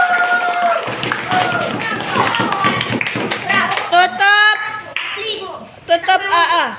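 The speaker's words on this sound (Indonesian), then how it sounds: "Kita kasih tepuk tangan buat kelompok 3" Fifth-grade classmates clap for a student group that has just finished presenting a heat-and-temperature experiment, a dense, close burst of applause lasting a few seconds before children's voices take over.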